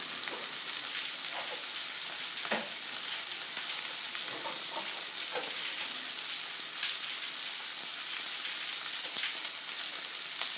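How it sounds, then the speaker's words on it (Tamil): Masala for black pepper pulao sautés in a pan with a soft, continuous sizzle and scattered light pops and stirring scrapes, steady and fairly faint throughout. "கொஞ்சம் வதங்கட்டும்."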